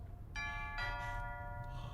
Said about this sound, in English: as he puts the pliers into Dean's mouth to take a tooth, the doorbell rings